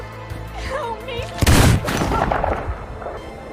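A single loud gunshot bursts in a film scene, where a man is shot in the stomach, cutting across faint voices and background sound.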